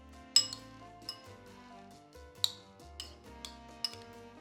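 Dark chocolate chips dropped into a bowl in a home kitchen: several scattered light clinks and taps at irregular intervals, close and fairly quiet, with no talking.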